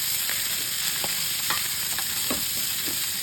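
Ginger, onion and garlic frying together in hot oil for Bicol-style laing, a steady dense sizzle with a few soft stirring scrapes, close and continuous.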